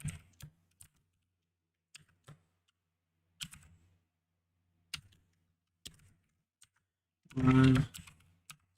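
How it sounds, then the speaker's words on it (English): Sparse computer keyboard typing, a handful of crisp isolated key clicks spread over several seconds with long quiet gaps, followed by a brief louder burst near the end. "I can type."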